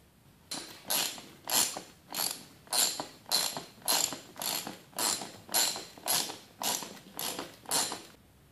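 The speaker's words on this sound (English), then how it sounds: "ratchet it down through the roofing material securely into the truss material underneath." A ratchet clicks in a regular rhythm of about fourteen even strokes as mounting studs are driven through roofing material into the truss beneath, each stroke a crisp, close metallic rasp.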